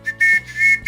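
A Morse code message end signal: short high whistle-like electronic beeps in a quick on-off pattern, several tones of varying length, clear and sharp.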